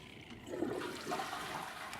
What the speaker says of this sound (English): Yeah, we're gonna go ahead and flush that.